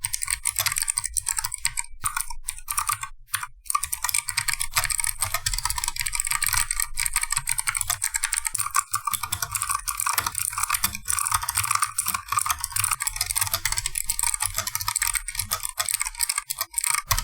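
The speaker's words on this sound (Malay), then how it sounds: "switch ini rasa sebiji macam blue switch tapi dengan tekanan yang lebih ringan" Steady, fast keyboard typing with crisp, clicky mechanical keystrokes running continuously and close up, no voices, on an Armageddon MKO13R keyboard with optical switches that feel like blue switches with a lighter press.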